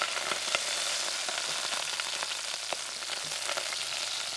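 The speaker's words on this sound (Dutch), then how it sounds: "We gaan onze look opstoven." Garlic sautés in extra virgin olive oil in a pan, a steady close sizzle and crackle with faint stirring clicks throughout.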